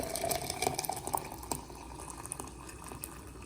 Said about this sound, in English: All right, so it's time to add the water.